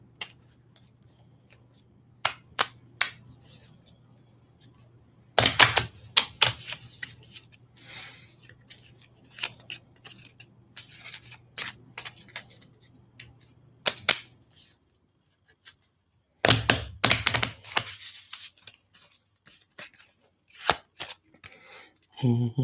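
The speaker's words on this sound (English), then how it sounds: "Shuffle, shuffle, shuffle, shuffle, shuffle, shuffle." Tarot cards of a handmade major arcana deck are shuffled by hand in repeated bursts of riffling and sliding, fairly close, with quiet pauses between and a low steady hum under the first half.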